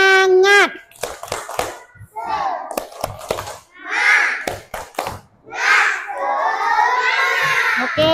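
Children in an Indonesian first-grade classroom do a rhythmic group clap, sharp bursts of claps in patterns alternating with chanting voices and a teacher leading.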